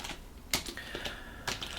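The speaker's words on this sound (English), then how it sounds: "I wanted to type Intel" Keys on a computer keyboard are tapped in a short, quiet burst of uneven clicks close to the listener.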